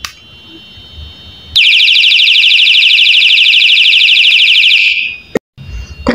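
A loud, steady electronic alarm tone from a 10-in-1 LED flashlight pulses rapidly for about three seconds, then cuts off abruptly, leaving quiet handling noise.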